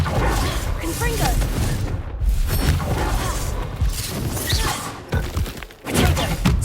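Spell combat in Hogwarts Legacy, with the Confringo fire blast among other attacks: dense booms, crashes and thuds follow one another almost without pause, under spoken spell calls.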